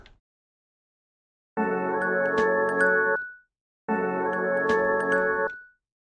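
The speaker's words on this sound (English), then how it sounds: "Let's use like a bell. Some sort of a bell tone for this." A sampled bell tone plays twice within a beat, each hit a bright sustained chime lasting about two seconds before it fades, with near silence between the two.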